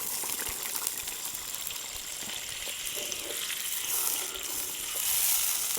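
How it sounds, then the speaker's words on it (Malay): Water pours into a cooking pot of simmering spice paste, a steady gushing splash with sizzle beneath, continuous and close, swelling slightly toward the end. "Okay, masukkan air."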